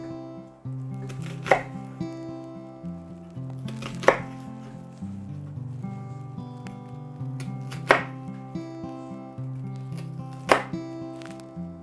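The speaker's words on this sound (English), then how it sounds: "So we're cutting 1/4 inch slices." A knife slicing an onion into quarter-inch slices, with a few crisp cuts spaced a couple of seconds apart over steady background music.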